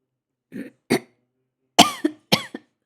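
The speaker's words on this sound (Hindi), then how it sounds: "सॉरी भई, खाँसी बहुत हो गई।" A few harsh coughs, close and loud, come in short bursts with brief pauses between them and nothing else around them.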